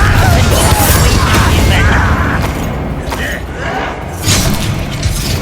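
A Confringo blast spell erupts in Hogwarts Legacy combat, loud booming impacts and thuds layered with rumbling, clattering game effects throughout.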